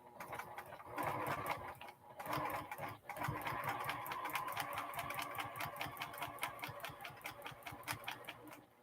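A sewing machine doing free-motion quilting combined with ruler quilting, running steadily with a rapid needle rhythm throughout, close and continuous, with a brief slowdown near the start.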